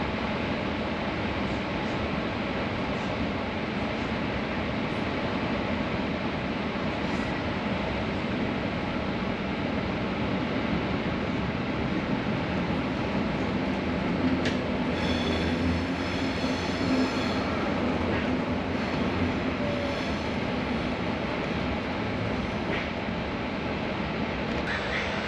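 Inside a regional train riding to Pisa, Italy, a steady rolling rumble fills the carriage, with faint wheel squeals and light rattling partway through, continuous and without talk.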